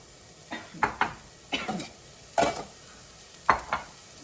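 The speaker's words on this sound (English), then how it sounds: "It's just good to have a little sear on the garlic and the onion" Garlic and onion sear in a hot pan for lentil soup while a utensil stirs them, giving several short scraping, sizzling bursts that are close and fairly quiet.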